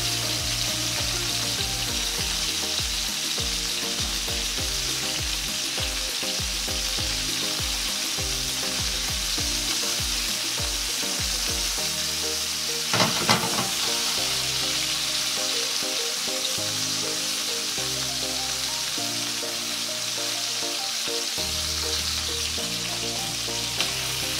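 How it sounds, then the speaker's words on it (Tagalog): Continuous crackling sizzle of meatballs frying in hot oil, close and loud, with a brief clatter partway through. "Prito ko lang siya ng kunti."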